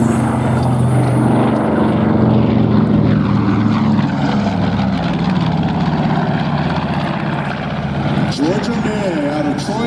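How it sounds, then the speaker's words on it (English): A B-25 bomber with twin piston engines and propellers roars past at a military airshow, a loud sustained drone rising and falling as it flies by, with a commentator talking over it. "Here's the B-25."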